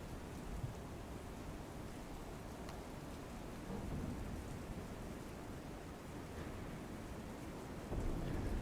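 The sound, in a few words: rain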